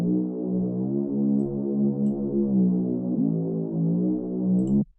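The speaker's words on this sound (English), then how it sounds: "Then we have this bass over here, which is a serum preset" A Serum preset synth bass for a future trance track holds one sustained, rich and buzzing tone for almost five seconds with a slight throbbing movement, then cuts off abruptly. No voices.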